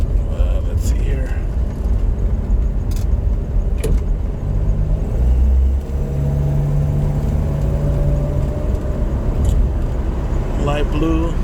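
Old light blue car on 14-inch wheels with a temperamental carburetor, heard from inside as it drives along with steady road and engine noise, some revving and passing whirs, while a person talks over it.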